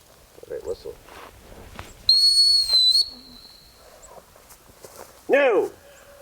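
Two sharp, high dog-training whistle blasts ring out during gun dog training, one long steady tone and then a shorter sliding one, over quiet footsteps outdoors.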